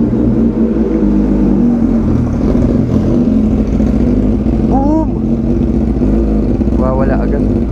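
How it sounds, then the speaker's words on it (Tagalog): A Suzuki GSX-S1000 motorcycle engine idles loudly nearby as it warms up, a steady low throbbing hum with brief rises in pitch, while a person speaks over it. "Painitin natin yung makina."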